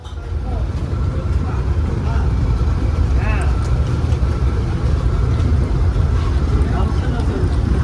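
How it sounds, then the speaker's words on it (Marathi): A small motor boat approaches a ship off Singapore, its engine and the churning water making a steady, loud, low rumble throughout, with voices now and then. "बोट आली आमची. ही बघा आमची बोट."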